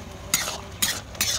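Panch phoron spices hitting hot oil for tempering, three sharp hissing sizzle bursts with stirring in between, close and loud, no talking.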